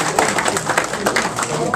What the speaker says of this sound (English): a round of applause for everybody here for the turnout